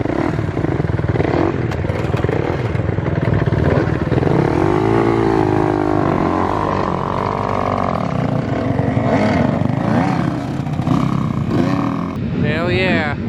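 Kawasaki dirt bike engines idle and rev nearby at a desert race, loud and continuous with rising and falling pitch, while people talk over the running motors.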